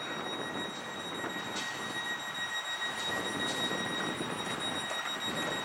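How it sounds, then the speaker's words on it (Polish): A Stadler FLIRT train departs Warszawa Gdańska station, a steady close rumble of rolling wheels and traction hum with a high tonal whine and faint rail squeals throughout. "Kierownik odprawia pociąg."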